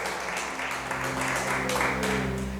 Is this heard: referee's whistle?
no